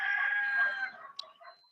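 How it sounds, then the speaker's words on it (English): A single rooster crows nearby, a drawn-out, fading call followed by a brief cluck. "Now you'll hear the roosters."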